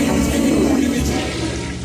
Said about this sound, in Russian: Да смывай ты!